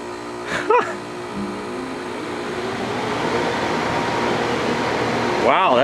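New Rheem 3.5 ton air conditioner unit: a steady broadband whoosh of the fan and compressor building and holding at moderate level, with brief speech-like tonal bursts near the start and end.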